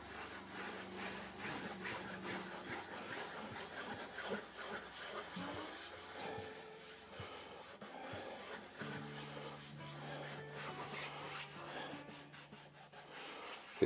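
A cotton French polishing pad charged with shellac rubs across a wooden surface in a steady, continuous swishing scrape, close and fairly quiet, with no talk.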